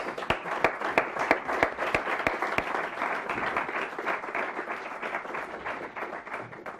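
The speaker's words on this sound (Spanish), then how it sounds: "Un aplauso a todos los ponentes." A conference audience applauds the panel speakers, a dense burst of many hands clapping with sharp individual claps standing out early, then settling into a steady patter that gradually thins toward the end.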